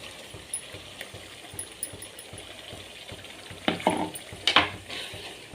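Ginger garlic paste being stirred into softened tomatoes in a hot pan, with a steady low sizzle and soft scraping clatter that turns louder with a few sharper stirs near the end.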